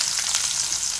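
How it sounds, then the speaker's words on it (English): Onion and green chili fry in oil in a kadai for a samosa filling, making a brief, steady, close sizzling hiss with no talking. "in that I've added oil. For that I'm gonna add onion and green chili."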